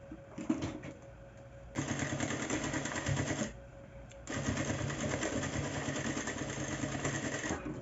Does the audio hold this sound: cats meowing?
no